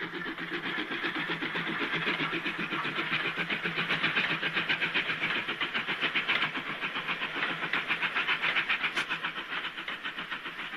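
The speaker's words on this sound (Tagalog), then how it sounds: "Ang tren! Papuntang Bahia Blanca!" A train bound for Bahia Blanca passes in an animated scene, its rhythmic clatter and hissing steam steady and fairly close throughout, with no talking.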